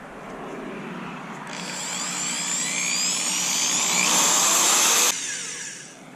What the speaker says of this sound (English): I got my step drill bit, and I have to drill it to 5/8 of an inch